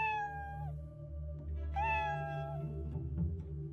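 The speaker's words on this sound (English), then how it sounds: "Meow. A sound came from Heidi's pocket." A kitten gives two clear, drawn-out meows close by, over a steady low background hum.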